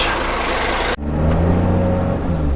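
A long-haul truck's engine idles, then revs and pulls away after a roadside refuelling on about 100 litres, a loud close low rumble that dips briefly before building steadily.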